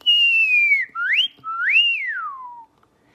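One person whistling a clear, piercing tone, three sliding notes in a row: a long falling note, then a quick rising one, then a swelling rise and long fall, close and alone.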